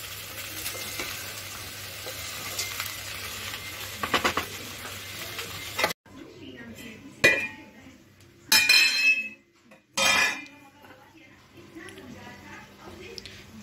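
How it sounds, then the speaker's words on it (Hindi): A potato and capsicum dry curry is stirred in a pan with a spoon, with a faint sizzle, then louder scraping and clinks of utensil against metal in bursts, while someone talks. "अब इसको अच्छे से मैं मिक्स कर लूँगी"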